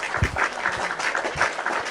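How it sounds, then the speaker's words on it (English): One person claps by hand, close and fairly loud, in a quick, slightly uneven run of claps lasting about two seconds. "Let me clap for you."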